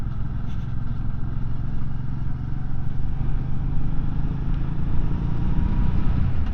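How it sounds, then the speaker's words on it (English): An MBP C1002V motorcycle cruises along a country road, a steady low engine drone mixed with wind and road rumble, close and continuous throughout with no break. "Nice enjoyable country ride on a bike that seems built well."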